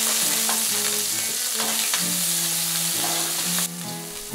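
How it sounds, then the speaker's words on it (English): Shrimps with a pinch of salt stir-frying in hot oil over high heat, a loud continuous sizzle close up with scraping stirs, ending abruptly near the finish. "When the oil is hot, I add the shrimps. I add a pinch of salt. I stir for 1 minute."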